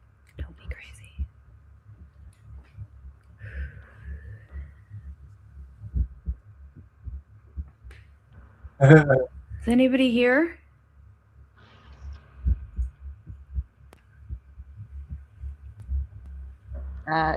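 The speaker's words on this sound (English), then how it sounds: "It's playing a heartbeat sound in the background." A heartbeat sound effect pulses low and steady in the background, a regular soft thumping rhythm running throughout beneath quiet whispered and spoken voices.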